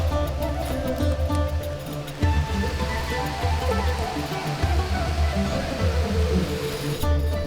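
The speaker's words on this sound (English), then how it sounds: "This is Baissour River, they call it." The Baissour River in Lebanon rushing steadily, a loud continuous broadband roar of flowing water heard close by without a break.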